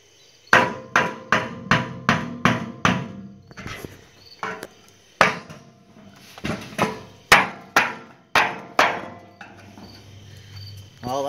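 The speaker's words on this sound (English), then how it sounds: "see if I can get this out now with my chisel." A hammer strikes a chisel in sharp, evenly spaced blows, a quick run of about eight hits followed by a pause and a second, more irregular series, all loud and close.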